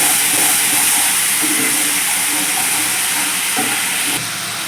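A paste of cumin, turmeric and Kashmiri chili mixed with water frying in a hot pan for a vegetarian potato and pointed gourd dish, giving a loud, steady sizzling hiss throughout with no talking.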